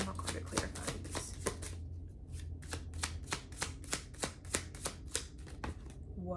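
Tarot cards being shuffled by hand in a quiet room, with a rapid run of riffling flicks followed by a steady series of distinct card slaps, close and fairly loud, with no talking.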